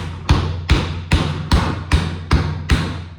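A hammer strikes a tough durian fruit seven times in a steady rhythm, each blow a close, dull thump with a short woody crack on top, and no one speaking.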